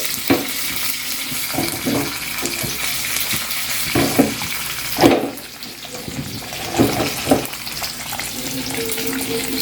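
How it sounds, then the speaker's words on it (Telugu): Oil sizzles and bubbles steadily in a pan as Andhra-style gongura mutton curry simmers, with occasional stirring scrapes and louder crackling bursts throughout. "నూనె పైకి వచ్చేంత వరకు అలా సన్న సిమ్ముగా పెట్టేసేస్తే సరిపోతుంది"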